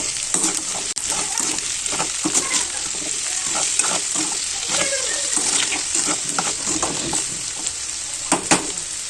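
Salted potato pieces sizzle and fry in a pan while a utensil stirs them, giving a steady close hiss with repeated scraping and clattering strokes throughout.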